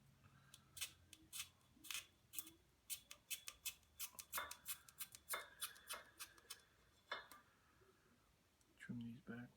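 Trimming parts during a roof rack install on a 2010 Jeep Wrangler JK: a long run of crisp, close snipping clicks in an irregular rhythm, with a voice speaking underneath.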